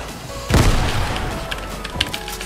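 Grenade explosion in Fortnite, a single loud, close boom that starts suddenly and rumbles away over about a second, with smaller crackling pops after it.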